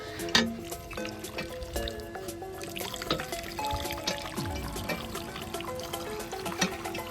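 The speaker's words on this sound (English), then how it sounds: "With the handle, you can pump out the water, which gets directed to a channel that flows to either side of the sand play area." Water gushes and trickles from a playground hand pump into a channel beside a sand play area in a park in BC, a faint splashing and dribbling flow with scattered clanks and drips, with no talk.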